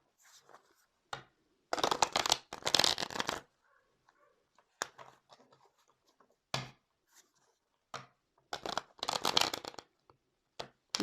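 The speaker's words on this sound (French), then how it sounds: "Il y a beaucoup de cartes pour mes petites mains." A deck of cards being shuffled in several quick riffling bursts separated by short pauses, close and crisp, with no voices.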